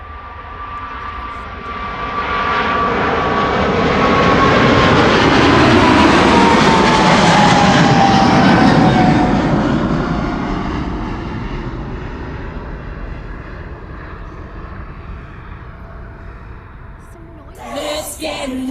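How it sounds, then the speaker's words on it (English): A Boeing C-17 military transport jet approaching Schiphol passes overhead with a deep roar that rises over several seconds, peaks loudly and then fades slowly into the distance. A short, sharp nearby noise comes at the very end. "another C-17 coming"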